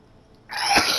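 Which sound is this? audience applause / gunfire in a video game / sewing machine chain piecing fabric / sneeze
sneeze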